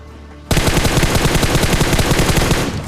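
Rapid automatic gunfire from a shooter video game bursts in abruptly after a short quiet moment, a loud sustained stream of closely spaced shots that continues to the end.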